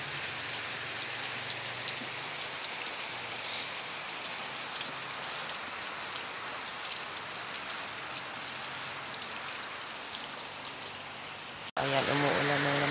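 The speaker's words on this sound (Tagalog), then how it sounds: "Ayan, umuulan na naman po siya." Steady rain falls in dark, stormy weather, a dense unbroken hiss of drops on surfaces that continues evenly throughout, with a brief sharp cut near the end and talking right after.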